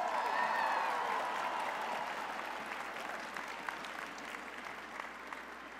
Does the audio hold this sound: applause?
yes